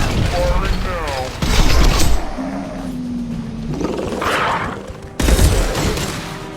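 Weapons fire in a Mass Effect 2 battle, arriving as loud, dense bursts of rapid shots interleaved with a drawn-out mechanical roar, with a voice talking in between the volleys.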